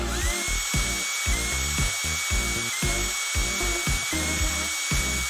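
Screws come out of a Midea U Shape air conditioner under a power driver, which whirs close up in short repeated bursts with brief pauses between them, over a constant high whine.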